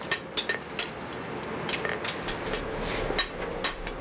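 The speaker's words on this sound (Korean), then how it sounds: "맨손으로 쇠를 두드리고 수십 번 담금질을 해야 하는 고단한 작업이기도 하죠." In a traditional smithy, a blacksmith hammers hot iron by hand, giving a string of sharp metallic clinks and taps, irregular and close, with quick clustered strikes toward the end.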